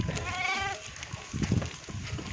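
Sheep grazing in a wheat field give a single clear bleat near the start, followed by quieter rustling and shuffling of the flock close by.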